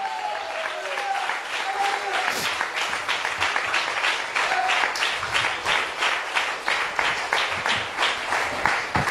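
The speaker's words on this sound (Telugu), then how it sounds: "Let's give it a clap together." A church congregation claps together in praise of Jesus, a loud, fast, sustained run of rhythmic group clapping that carries on steadily throughout, with crowd voices mixed in underneath.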